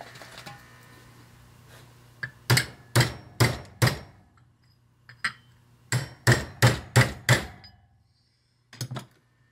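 Hammer blows land on a part during a Ford tractor starter rebuild, a group of four sharp strikes, then a group of five, then a final tap, all close and loud with no talking.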